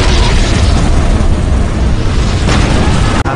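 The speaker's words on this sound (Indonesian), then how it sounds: "Armada pertama Jepang luluh lantah dihujani tembakan meriam Yi Sun Sin." Loud, continuous rumbling booms of naval cannon fire and explosions as warships are hit in a battle at sea, dense and overlapping throughout with no pauses.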